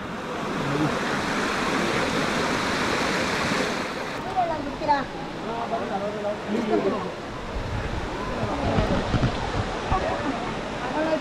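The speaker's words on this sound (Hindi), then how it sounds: "बड़े बड़े पत्थर है उसमें से पानी का फ्लो भी है" Water rushing over large rocks in a stream beside a road, a continuous loud broadband roar that persists while people talk over it.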